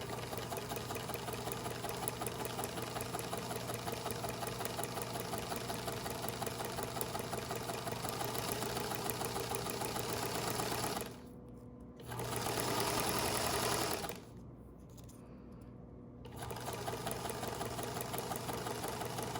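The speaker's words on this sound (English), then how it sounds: "So we're gonna back stitch, and then we're just gonna sew that piece." Sewing machine stitching a hospital gown, a steady fast mechanical whir running continuously and close by, pausing twice briefly for short back-stitch stops before resuming, with no talk over it.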